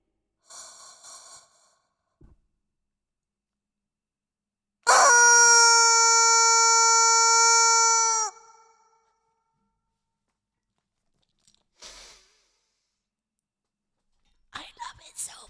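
A chicken in Fatal Frame: Mask of the Lunar Eclipse lets out a single loud, drawn-out breathy, rasping tone lasting about three seconds, set between faint whispery noises and long silences.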